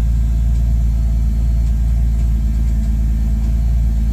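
A BMW E36 with an M54B30 inline-six gives a deep, bassy exhaust rumble, loud and close, holding a steady low drone without clear rev changes.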